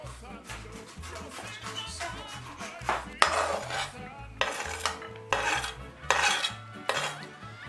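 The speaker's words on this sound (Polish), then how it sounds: "Siekam." A knife chopping half a red onion on a cutting board, a quick rhythmic series of close, solid taps in bursts with short pauses between, loud and unaccompanied by talk.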